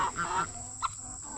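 A few short clucks from a rooster nearby, over a constant high insect-like whine and quiet outdoor farm background.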